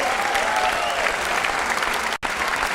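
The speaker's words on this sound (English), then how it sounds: "the CCI crowd comes alive again" Loud, dense applause from the crowd at a squash final of the CCI International 2017 rings out after a rally finish, sustained throughout with a brief dip near the end.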